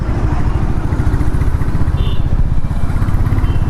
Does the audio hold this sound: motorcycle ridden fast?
yes